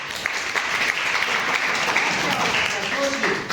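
A classroom of students applauds during a Hindi science revision class, a dense, steady wash of clapping that holds at a fairly loud level for a few seconds.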